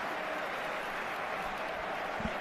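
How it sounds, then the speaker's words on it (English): A football stadium crowd at a Real Madrid match applauds and murmurs as a steady, dense wash of distant clapping and crowd noise, even in level throughout. "The crowd appreciates the effort"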